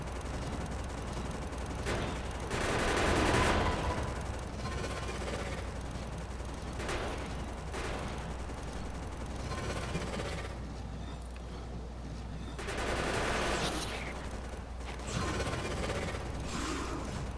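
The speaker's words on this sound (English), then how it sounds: "We're almost close enough that we can get right on down here and shoot at them." Gunfire from shooting enemies among trees in the video game Factorio, a continuous dense stream of rapid shots with swelling bursts over a steady background hum.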